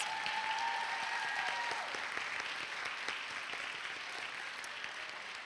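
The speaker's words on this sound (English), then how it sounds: "one more big round of applause" Audience applause at an employee recognition night, a steady wash of many hands clapping that stays loud throughout and eases off slightly toward the end, with a brief tonal ring early on.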